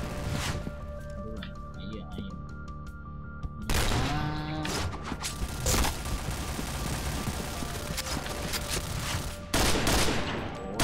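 AUG rifle fire in a shooting video game, several loud bursts and rapid volleys spread through the clip, with game sound effects between them and someone talking over the action.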